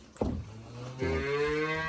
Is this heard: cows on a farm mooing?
yes